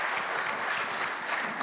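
Audience applause fills a hall at a Pro Football Hall of Fame and Cleveland Browns Black History Month program, a steady dense clapping held at an even level from start to finish, with no talk over it.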